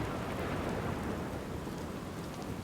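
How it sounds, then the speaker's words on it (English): Steady indoor rainfall in the video game Outer Wilds, a dense, even hiss of pattering drops that continues without a break, with no voices over it. "It's amazing how often that is in games where it will rain indoors."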